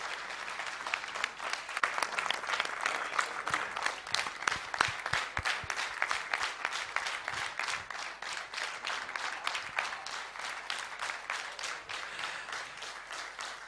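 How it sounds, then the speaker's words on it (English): An audience at a training meet applauds at the close of a session, with dense, steady clapping from many hands that holds at an even level throughout. "Then you better clap."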